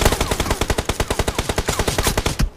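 Automatic gunfire in a battle royale game: a rapid, loud, evenly spaced burst of around two dozen shots over a couple of seconds, ending abruptly.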